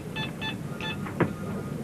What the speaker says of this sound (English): Let me put you through to Michael Smith.